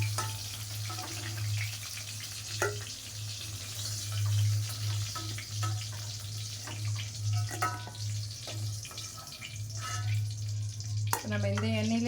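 Eggplant fries in oil in a pan for a Tamil eggplant curry, with a soft steady sizzle under intermittent stirring and scraping clatter. A low hum runs throughout, with a louder utensil rattle near the end.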